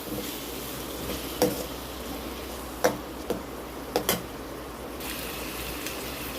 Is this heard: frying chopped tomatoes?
yes